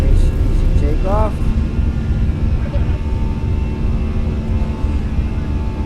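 A Fenix A320 airliner takes off in Microsoft Flight Simulator 2020, with a loud steady jet engine roar and rumble throughout and people talking over it.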